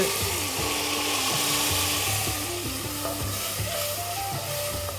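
Garlic and tomato sizzling in a pan for patra ni macchi, a continuous moderate frying hiss with stirring scrapes and knocks, close by, with no voices.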